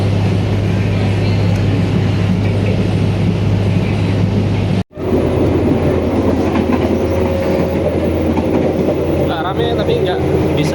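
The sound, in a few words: BIAS train departing Sragen station, rolling on rails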